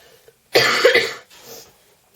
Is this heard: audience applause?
no